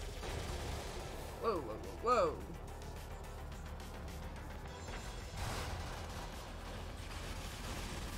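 Mechanical weapon fire and blasts in the Brigador video game: a few distinct rattling, clanking bursts early, then a later crashing burst, over a steady low rumble and murmured voice commentary.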